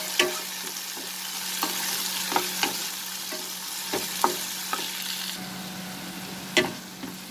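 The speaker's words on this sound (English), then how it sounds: "we'll saute this till the raw smell of the ginger garlic disappears" Ginger garlic paste sautés in a pan over a medium-high flame, giving a steady soft sizzle broken by sharp spatula scrapes and clicks, with no talking.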